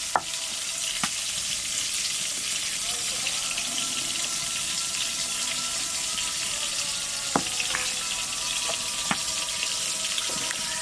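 Small fish fry in oil in a wok, a dense, steady sizzle close by, broken by a few sharp clinks and light stirring knocks, with no one talking.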